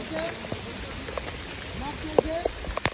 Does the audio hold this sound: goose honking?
no